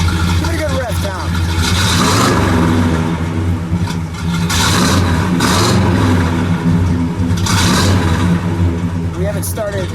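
The 400 Ram Air V8 in a 1970 Pontiac GTO Judge convertible with a four-speed revs up repeatedly, loud surging roars rising and falling over a rough idle, with people talking faintly in the background.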